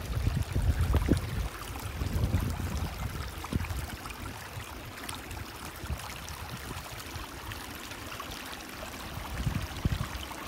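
A small trickle of water runs beneath a rock bridge along a valley trail, a continuous soft gurgling wash with no voices, heard close and fairly steady throughout.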